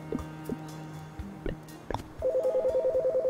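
A phone rings when calling home in the Chicory video game: a few soft chime-like tones, then a steady warbling electronic ring tone pulsing rapidly, clear and close with no voices.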